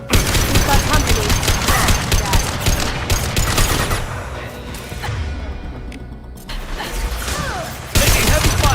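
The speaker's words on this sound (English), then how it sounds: "Taking heavy fire!" Heavy gunfire in the Mass Effect 2 video game, a dense, continuous barrage of automatic shots and impacts, loud and close, easing slightly midway before surging again, with mechanical clatter mixed in.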